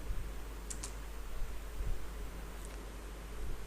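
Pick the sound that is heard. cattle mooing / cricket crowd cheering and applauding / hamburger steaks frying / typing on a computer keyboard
typing on a computer keyboard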